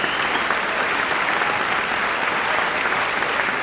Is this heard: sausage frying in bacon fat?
no